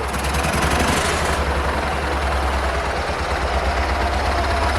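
A T-012 tractor's UD-25 engine, fitted with a Chinese scooter carburettor and no air filter, idles loudly nearby with a deep, steady, rapid knocking chug, unbroken throughout.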